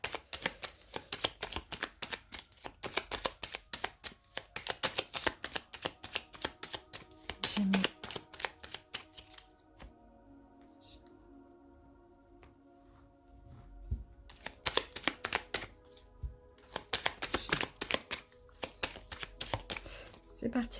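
Tarot cards are shuffled and cut in quick, crisp riffling bursts, close and rhythmic. They pause for a quieter stretch where someone talks, then resume in further rapid flurries.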